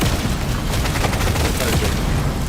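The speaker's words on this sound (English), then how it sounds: "See how those bullets bounce?" In the DRG Survivor video game, bullets fire and ricochet in a loud, unbroken barrage of overlapping shots and impacts that never lets up.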